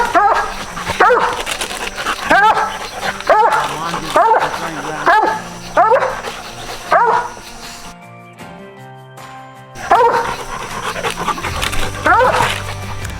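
Young coonhound pups, about ten to twelve months old, bark and bay repeatedly on a track, loud and close, with rhythmic bawls broken by a short gap and some whimpering; a voice is also heard.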